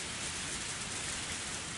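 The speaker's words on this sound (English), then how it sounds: "cold rain wouldn't warm my body or save me" Rain falling in Higurashi: When They Cry, a dense, even hiss of steady downpour with no breaks, moderately loud and alone.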